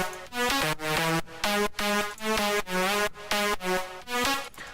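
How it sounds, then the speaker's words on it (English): A bright synth lead line from an electronic music production, playing short rhythmic notes in a repeating, pulsing phrase, clear and loud with no voices over it. "So let's start with the lead. It sounds like this."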